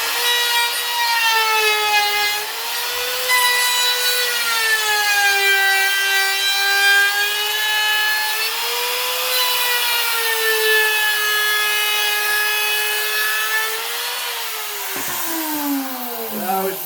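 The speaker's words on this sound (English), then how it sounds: "here goes the router" A router shapes the edge of a wooden part for a shaving horse, giving a loud, continuous high whine that wavers slightly in pitch as it moves along the wood and then spins down at the end.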